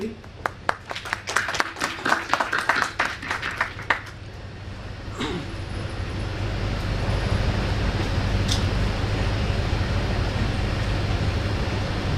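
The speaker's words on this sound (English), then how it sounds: "big round of applause for Sathyamurthy." Audience applause at an income tax educational seminar rings out as a burst of sharp, close claps for the first few seconds, then fades into a low steady rumble of room noise.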